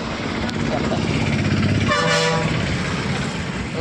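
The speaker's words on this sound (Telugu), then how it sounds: "ఇదేదో ట్రైన్ వెళ్తుంది" A passing train's horn toots briefly mid-clip over steady road and bus-interior rumble as a bus pulls away near a station, with people talking around it.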